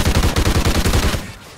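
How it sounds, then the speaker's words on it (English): Rapid automatic gunfire from the video game Call of Duty: Ghosts rattles in a fast, steady burst of loud shots that stops abruptly near the end. "I always shoot my own team now."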